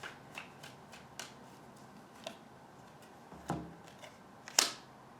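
Tarot cards are shuffled and drawn during a reading, giving soft papery ticks and flicks at irregular intervals with a sharper riffle near the end, all faint and close with no talking.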